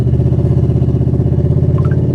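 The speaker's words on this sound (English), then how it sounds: "really nasty exhaust leak" A tow truck engine with a bad exhaust leak idles close by, making a loud, steady, throbbing rumble with a faint rhythmic ticking and no voices.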